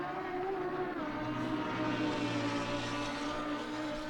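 Race car engine in Assetto Corsa Competizione at Imola, a sustained steady mechanical drone with layered harmonic whine, moderately loud and alone without talk.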